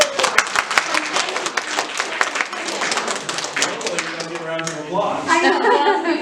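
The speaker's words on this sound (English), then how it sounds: "But this is Mayor Kenedy, so give me a round of applause" Second graders applaud the mayor with a steady burst of clapping from a room of children, continuing throughout with cheering voices rising near the end.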